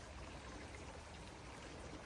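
A small creek waterfall pours in a steady, faint hiss of falling water, brief and continuous with no voices.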